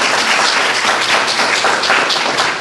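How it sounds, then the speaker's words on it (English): Audience applause for the panelists at an event on educating children, a dense steady wash of clapping hands lasting throughout, loud and close with no pauses. "Let's give all of the panelists a big round of applause"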